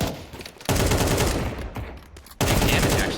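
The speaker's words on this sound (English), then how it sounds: "all the Bogdans with the AK" Loud, dense automatic AK rifle fire in a competitive Counter-Strike match arrives in two long bursts separated by a short, quieter gap.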